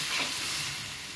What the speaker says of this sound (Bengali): এখন আমি একটু জল দিয়ে দেবো যাতে বেগুনটা সুন্দর করে ভাজা হয়ে যায়